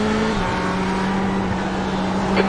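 The engine of a GTE race car in the iRacing sim drones at a steady, high pitch. It holds loud and even throughout, with a slight shift in pitch partway through.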